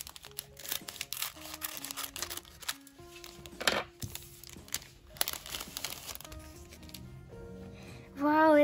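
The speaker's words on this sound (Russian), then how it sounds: "Давай откроем вот этот пакетик." Crinkly plastic packet from a Wednesday-themed box being opened and handled, a busy rustling crackle over several seconds, close and fairly loud, with music playing underneath.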